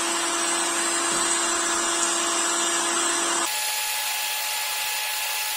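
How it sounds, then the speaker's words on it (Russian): A heat gun blows hot air onto a plastic bottle, a loud, steady whining hiss with a constant tone that shifts pitch partway through as the setting changes, continuous and close. "Теперь беру строительный фен."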